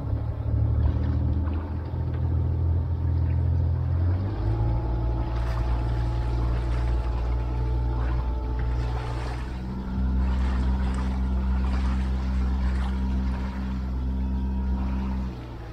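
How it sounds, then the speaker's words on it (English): Outboard boat engine running steadily just after being started with primer, the pitch and load shifting as the throttle is worked through forward and reverse; loud, close and continuous, with no talk. "it's time to start the engine. A little primer goes a long way. There, it started, no problem."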